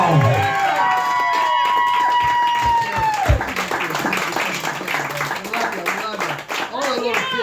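An audience clapping and cheering for a drummer at a summer event, dense applause with crowd noise under a voice speaking and singing over it, loud and lively.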